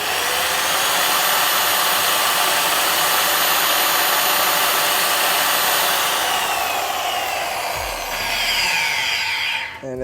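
Rupes or Flex rotary polisher spinning a damp pad dry at speed 6, a loud steady whirring motor drone held near and constant for most of the time before winding down at the end.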